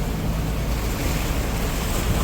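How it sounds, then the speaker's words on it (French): Sea waves surge and rush around a sailing catamaran under way on a sporty passage, a loud continuous roar of surf mixed with heavy wind buffeting the microphone, with no voices. "Il y a des belles vagues quand même."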